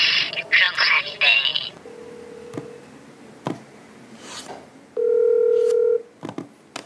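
A telephone keypad beeps through a quick series of dialing tones, followed by two flat electronic ring tones separated by quiet, with faint clicks between.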